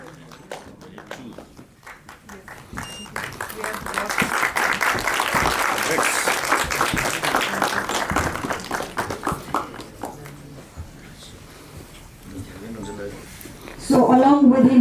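Film festival audience applause swells from scattered claps into a sustained round, then tapers off; a voice talks over the start and end.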